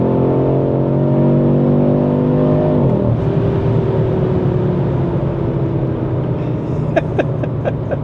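Audi RS3 accelerating hard, its engine note climbing steadily through the gears with a shift break partway, loud and close, followed by a few sharp crackles near the end.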